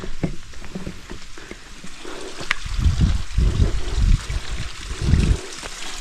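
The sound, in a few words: water trickling in a stream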